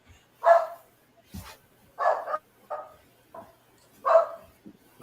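A dog barks in short, sharp bursts, about five barks spaced over several seconds, fairly close, with brief quiet gaps between them.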